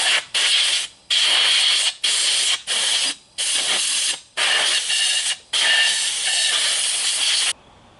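Compressed air blasts from an Eastwood powder coat gun in about seven loud, close hissing bursts, each cut off sharply before the next, then a faint tail of hiss.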